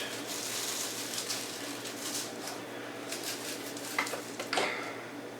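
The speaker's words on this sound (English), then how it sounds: "And then I put it all in the meat and just mix it very good." Seasoned ground venison is worked and squished by hand in a bowl for jerky, giving a steady wet kneading and mashing sound with a few sharper squelches near the end, close up and with no talking.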